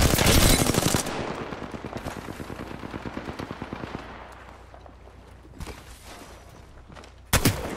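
Rapid automatic gunfire in the video game Apex Legends, a loud opening burst followed by a long stuttering stream of shots that fades, then a sharp final blast; no talk.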